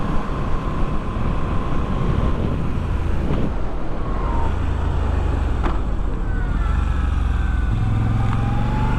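A 2022 Moto Guzzi V7 Stone motorcycle out on a ride, its engine droning steadily under heavy rushing wind noise, with a few rising tonal sweeps as it revs through gears.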